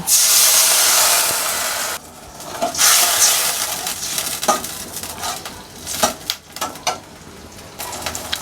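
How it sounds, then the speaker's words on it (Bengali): Chopped onion hisses and sizzles loudly in a hot pan as a little water is added, steam bursts swelling and fading, with stirring scrapes and clicks of the utensil against the pan. "পেঁয়াজটাকে কষানোর জন্য আমি এখানে অল্প একটু পানি দিয়ে দিব।"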